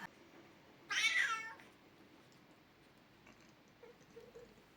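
A single clear meow from a pet cat indoors, short and fairly close, followed by quiet room noise and faint small rustles.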